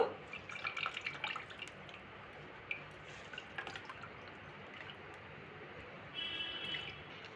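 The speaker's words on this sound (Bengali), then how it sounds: "কাপড়টাকে ঘুরিয়ে হাতে এইভাবে প্রেশার দিয়ে আমি জলটাকে বার করে নেব" Water dripping and trickling from a cloth being twisted and squeezed by hand to drain chhena for rasgulla, soft irregular drips close by with a faint splashing run near the end.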